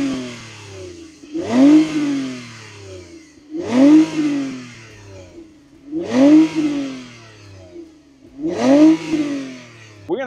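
A Toyota Camry TRD V6 engine, 2024 model, revs up loudly four times in a steady rhythm, each roar climbing and then falling back to a lower idle between bursts.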